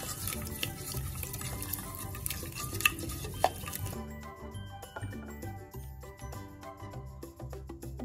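A spoon stirs and scrapes a pan of cream and honey glaze cooking over a medium to low flame. The stirring is close but soft, with light clinks and faint sizzling.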